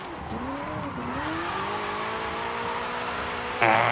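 A 2015 Ford Mustang GT drifts in Forza Horizon 5, its engine note sweeping up and down with tire squeal, loud and steady throughout, with a sharp burst of noise near the end.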